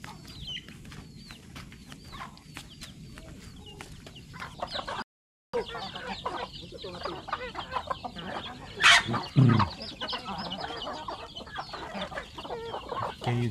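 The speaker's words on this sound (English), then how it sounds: "Ah, chickens." Farm chickens cluck and squawk near and far throughout, with a sharper louder squawk burst toward the end and occasional faint background voices.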